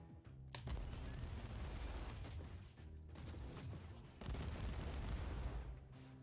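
Cannon fire in the Warhammer 40K Inquisitor Martyr video game: repeated heavy booming bursts with a rolling, continuous barrage quality, briefly dipping before a louder volley resumes, with no talking.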